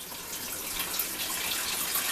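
Water trickles and splashes steadily as it drains out of wet laundry sitting in a bucket with holes, a soft continuous rush close by.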